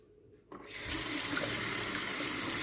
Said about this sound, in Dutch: Vervolgens vul je de pot met water.